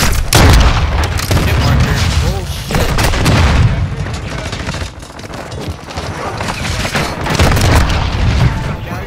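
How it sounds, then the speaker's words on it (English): Repeated rocket launcher blasts and booming explosions in a video game firefight, loud and dense, with heavy rumbling impacts coming in waves and a voice shouting over them. "They keep shooting me with that fucking rocket launcher, bro"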